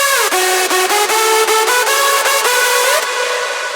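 Layered hardstyle synth leads, bright and harsh with square-ish tones, play a loud stepping melody in steady rhythmic notes, alone and densely stacked.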